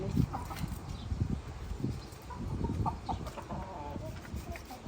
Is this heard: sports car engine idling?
no